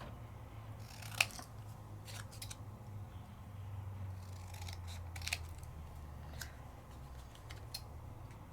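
Scissors trimming a paper card during a papercrafting demonstration, a few quiet crisp snips spaced apart over faint room hum.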